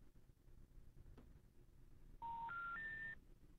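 Three rising telephone keypad tones beep in quick succession over a faint, quiet background hiss.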